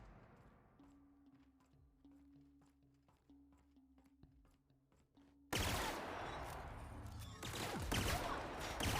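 Enemy gunfire erupts in The Outer Worlds, a loud, dense burst of shots and impacts that cuts in abruptly after a quieter stretch of game music and stays loud and sustained to the end.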